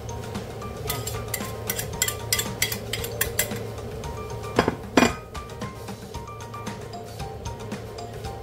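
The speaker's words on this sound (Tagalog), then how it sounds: "Ibabalik natin dito sa ating kawali." Pork steak pieces go back into a frying pan, with clinks and scrapes of a utensil against the pan over a low steady sizzle and hum, near and fairly loud.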